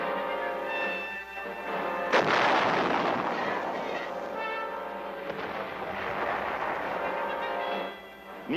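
Artillery pieces fire during training at an artillery school outside Tainan, Taiwan, in the 1960s. Two heavy booming reports are each followed by a long rumbling decay, spaced a few seconds apart over a low background hum.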